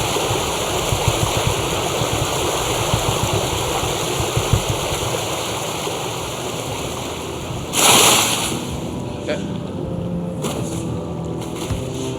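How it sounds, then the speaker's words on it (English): Glitching water audio in World of Warcraft Legion Remix: a loud, continuous rushing wash like a boat wake or stream, steady throughout with a brief burst partway through and no talk. "I hate this stupid water glitch."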